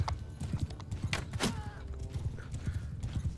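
Cavalry horses in the video game Mount & Blade 2 Bannerlord, with Calradia Expanded, thunder along in a busy drumming of hooves, with a neigh and scattered battle clatter over the fast, steady galloping rhythm.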